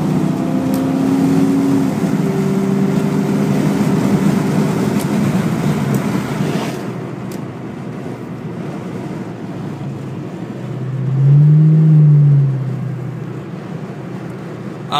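A 2002 Ford Mustang GT accelerating on the freeway, heard from inside the car: steady road and engine roar with a rising engine tone toward the end, no talking.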